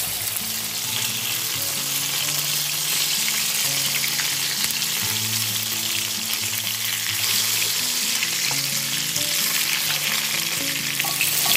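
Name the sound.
stuffed ash gourd pieces shallow frying in hot oil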